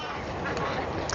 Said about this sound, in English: ducks. They want to speak.